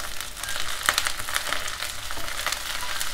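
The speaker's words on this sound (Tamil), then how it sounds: "2 பீஸ் பச்சை மிளகா நல்லா போட்டு நல்லா வதக்கிக்கலாம்." Green chillies and curry leaves sauté in hot oil, a loud continuous crackling sizzle with sharp spits and pops scattered throughout, no voices.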